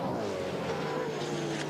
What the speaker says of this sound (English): Perkins' car going through now